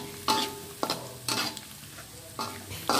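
Ground spice paste for a Toraja-style pork dish sizzles in a pan while a utensil scrapes and stirs it in regular strokes, close and clear, with no talking.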